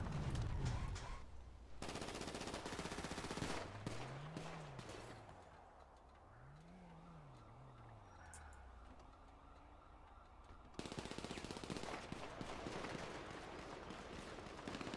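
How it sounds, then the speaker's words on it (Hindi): Bursts of rapid automatic gunfire in GTA 5 open and close the stretch, with quieter mechanical whooping tones in between, like a video game firefight. "मेरे पे गोली चल रही है, कवर अप कर रहा हूँ"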